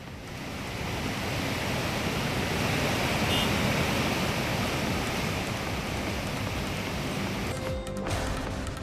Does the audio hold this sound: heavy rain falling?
yes